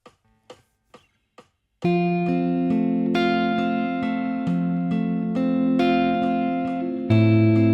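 Fingerpicked acoustic guitar playing a chorus in G, opening with four sparse metronome clicks before sustained plucked chords ring out steadily, close and full, with chord changes every second or so.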